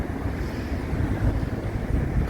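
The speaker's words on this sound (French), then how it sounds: "Continue d'avoir le vent dans le dos." Steady wind buffeting the microphone while cycle touring in Trinidad, a continuous low rumble with gusty fluctuations and no voices.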